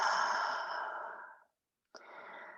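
A long, soft exhaled breath during a yoga class, fading out over about a second and a half, followed after a short silence by the start of another gentle breath, close and quiet.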